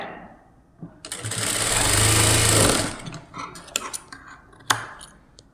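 A sewing machine stitches the shoulder seam of a blouse during canvas neck finishing, running in one loud, steady burst of about a second and a half, then falling to scattered light clicks and handling taps.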